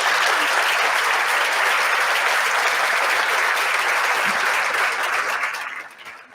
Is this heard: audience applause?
yes